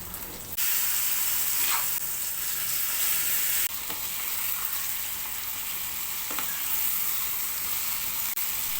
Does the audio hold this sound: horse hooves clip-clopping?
no